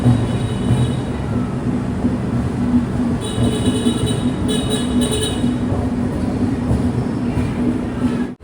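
A railway locomotive idles close by at a dead-end station platform, a steady loud engine drone with a high whine over it that holds throughout.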